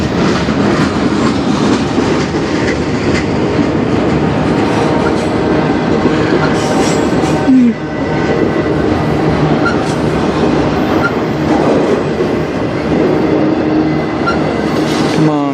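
CN freight train hauling auto racks rolls past in Sarnia, Ontario, a loud continuous rumble with clickety-clack of wheels over rail joints and a brief wheel squeal, no voices.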